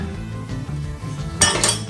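Metal 5x9 loaf pans are handled on a kitchen counter, giving a short bright clatter and clink near the end over a low background hum, close by with no talk.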